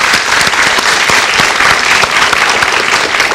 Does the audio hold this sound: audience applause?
yes